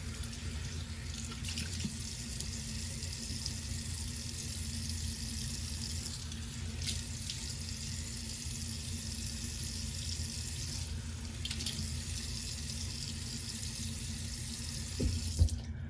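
A bathroom tap runs steadily into a sink during face washing, a continuous close hiss of flowing water with brief changes in the stream and a small clatter near the end, no voices.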